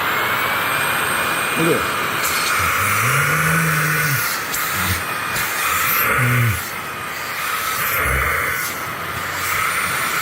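Levoit cordless vacuum cleaner running with a constant high whine and hiss, the motor tone shifting slightly as it works, while a person talks over it.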